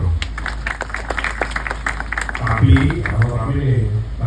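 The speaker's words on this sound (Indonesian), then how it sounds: "Ya, tepuk tangan dulu." A crowd claps at an outdoor joint harvest event in Klaten, with sharp, scattered hand claps for the first couple of seconds before a voice takes over and the clapping fades beneath the talk.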